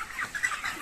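Chickens on a poultry farm with plastic slatted flooring cluck and murmur in a steady, busy chorus, fairly close and continuous with no talk.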